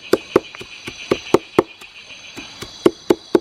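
Frogs croak in a deep forest at night with a steady, rhythmic series of sharp knocking calls, some louder and nearer than others, over a continuous high insect drone.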